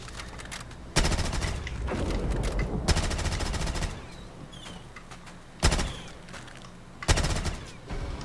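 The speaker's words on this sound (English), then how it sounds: "This is a job for the old AK." Bursts of AK rifle fire in a zombies survival video game, set in a library map, come in repeated loud volleys separated by short pauses, with sustained rattling between the sharper bursts.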